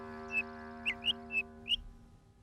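Five short, high chirps of a small cartoon bird in a children's animated series, spaced irregularly over a faint sustained tonal backing, soft and close.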